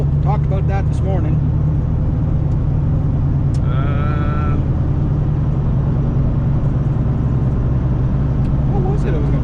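A motorcycle, an adventure bike, passes by outdoors, its engine drone steady and fairly loud under a constant vehicle rumble, with someone talking over it.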